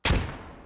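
A frag grenade detonates in the military shooter game Squad: one sharp, loud blast with a sudden onset and a quickly fading rumbling tail.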